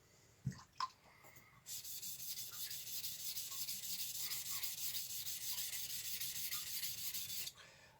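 A steel blade, a Japanese-style knife polished near the shinogi line, rubbed steadily on a sharpening stone: a couple of light knocks, then a continuous close hissing scrape that runs for several seconds before stopping abruptly.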